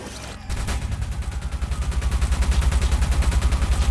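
Rapid automatic gunfire from the video game Watch Dogs rattles on without a break, loud and rhythmic, building slightly in intensity.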